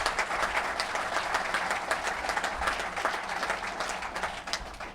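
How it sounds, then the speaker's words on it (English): Steady audience applause fills the room at a college football introductory press conference, a dense, continuous clapping that holds at an even loudness throughout with no voices over it. "Yeah, you can clap for him."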